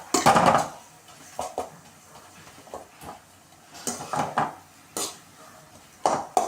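Tomatoes sautéing in a pan for Tamil thakkali kara chutney, heard as scattered knocks and scrapes of a spoon against the pan, with a louder clatter at the start and a few sharp taps later, at close range.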